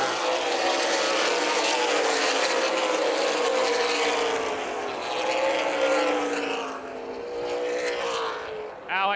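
ARCA/CRA Super Series race cars roar around the Toledo Speedway oval, a loud, sustained engine whine rising and falling as the cars run down the back straightaway.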